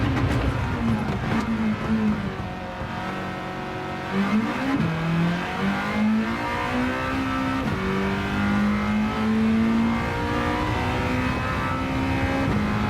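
Race car engine in Gran Turismo 7 revving and accelerating through the gears, a loud continuous whine rising and dropping with shifts, with brief tire squeal, close and without talk.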